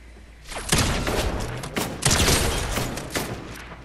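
Pump shotguns fire in the video game Fortnite, a rapid cluster of loud, close blasts in quick succession with dense overlapping reports and no talk.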